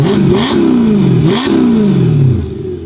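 A car engine revs repeatedly with exhaust valves open, a loud, open, crackling exhaust, two or three sharp throttle blips rising and falling, close by.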